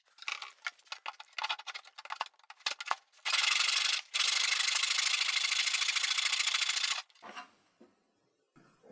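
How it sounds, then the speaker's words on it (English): Handsaw cutting through a 3/4 inch wooden dowel, steady broadband strokes forming a sustained rasp after some initial handling taps, then a short pause and another long continuous cutting burst before quieter shuffling. "I get another piece of dowel that's a little bigger, in this case 3/4 of an inch, and I will cut a piece of this"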